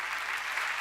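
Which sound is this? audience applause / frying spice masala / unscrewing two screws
audience applause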